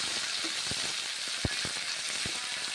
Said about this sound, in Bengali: সিমগুলো কড়াইয়ের মধ্যে ছেড়ে দিচ্ছি, ভেজে নিচ্ছি